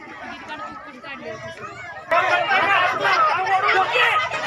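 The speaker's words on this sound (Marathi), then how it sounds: "बापरे गर्दी" Dense crowd chatter fills a packed water park in Borgaon, a steady babble of many voices that swells sharply louder partway through and stays close and busy to the end.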